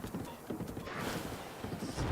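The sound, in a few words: horse hooves in the video game Zelda Breath of the Wild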